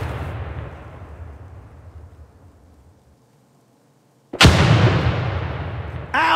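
A grenade blast in America's Army 3 during basic training, starting with a long decaying rumble that fades to near silence, then a sudden loud explosive burst that roars on steadily until the end, with no voices.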